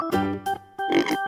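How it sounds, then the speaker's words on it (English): A pig on a farm gives three short, close grunting oinks with pauses between them, heard alone. "Pig."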